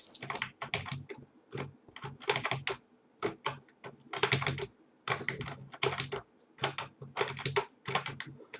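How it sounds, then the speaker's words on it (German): A loud computer keyboard clatters under fast typing close by, in uneven bursts of rapid keystrokes separated by short pauses, with no voices. "Meine Tastatur ist bestimmt endlaut"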